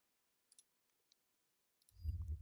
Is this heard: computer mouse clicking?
yes